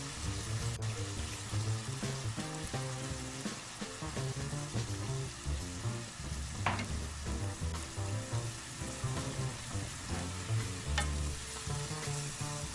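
Steady sizzling and stirring of tofu kimchi stir-frying in a soy, chili and garlic sauce over medium heat, with occasional scraping and clinks, continuous and close with no talking.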